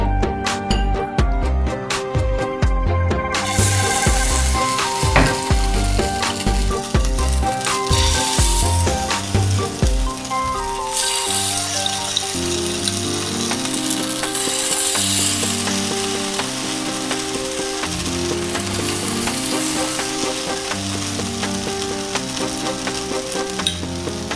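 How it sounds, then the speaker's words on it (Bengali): Paneer pieces dropped into hot oil in a frying pan for a black pepper paneer dish, giving a loud, continuous close sizzle and crackle with occasional scrapes and taps as the pieces are placed and moved. "তেলটা গরম হয়ে গেছে, এবার আমি পনিরগুলো দিয়ে দেবো একে একে।"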